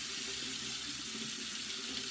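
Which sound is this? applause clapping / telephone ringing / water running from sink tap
water running from sink tap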